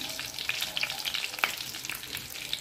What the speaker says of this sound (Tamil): கறி லீஃப்ஸ் போட்டால் எப்படியுமே பொரியும் கவனம்.